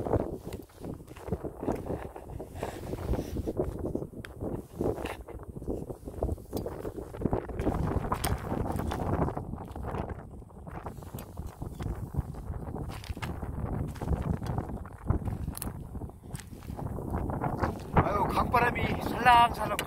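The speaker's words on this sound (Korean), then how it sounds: "바람이 살랑살랑 불어오고" Wind gusting by the Bukhan River, buffeting the microphone in uneven rumbling bursts, with faint footsteps and outdoor noise and no clear speech.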